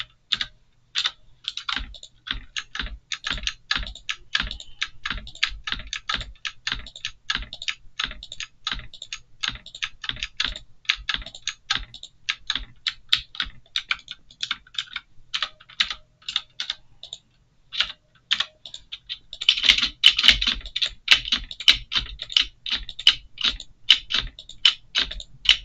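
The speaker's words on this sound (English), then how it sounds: "I really need a quieter keyboard" A loud computer keyboard clatters with rapid, uneven keystrokes in bursts and short pauses, growing busier near the end, with no voices.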